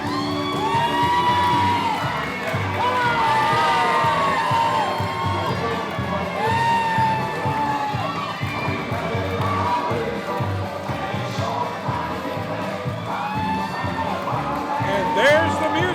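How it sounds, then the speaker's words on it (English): A wrestling crowd at an ARW show cheers wildly, with sustained loud shouting, whoops and yelling, while entrance music plays and an announcer talks over the noise. "the crowd is going wild here at ARW"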